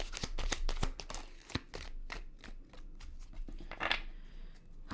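Tarot cards being shuffled in a reading, with a quick series of crisp riffling snaps and soft flutters that come in uneven bursts, close and moderately loud, with no voices.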